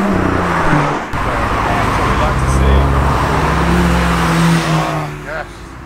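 Cars lap a Castle Combe circuit summer action day, one Ford Focus ST among them, their engines a steady close roar that swells and fades as they pass, with voices faintly underneath.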